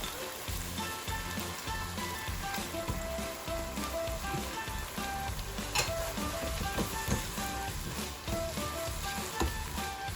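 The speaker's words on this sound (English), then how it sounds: "Stir it for a while, and then I'm going to add my soya granules." Peas and corn sizzling loudly in a pan for a vegetarian keema, with steady frying crackle and repeated stirring scrapes and clinks against the pan throughout, close and without speech.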